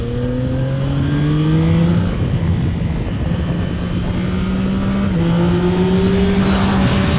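A Yamaha Tracer 9 GT+ motorcycle engine drones loudly while riding, its pitch climbing steadily through the gears with a brief drop at a shift, under constant wind rush.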